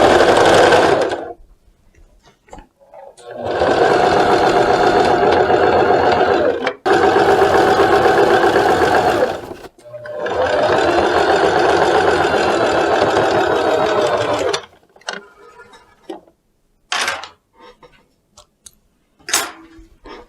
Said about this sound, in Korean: 다시 가볍게 박아줍니다